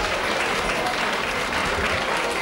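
Steady, dense applause from an audience honouring a teacher at a ceremony, continuous and full throughout with no breaks.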